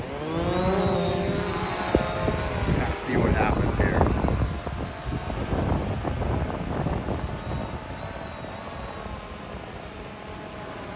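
A drone carries mullet bait out over the surf for surf fishing, its steady buzzing hum droning throughout at moderate distance while someone talks over it outdoors.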